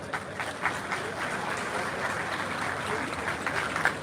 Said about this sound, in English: Yes, it is a good time to clap.